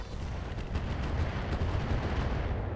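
Airstrike explosions pound armored mechs in the RogueTech battle game, a dense, continuous rumble of blasts and booming impacts with no clear gaps between hits, loud and sustained throughout.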